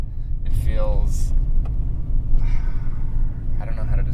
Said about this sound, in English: It fits the persona of the car better, I think, with that loud exhaust.